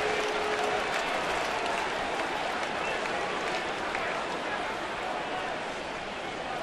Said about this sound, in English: Fans are booing just a little bit there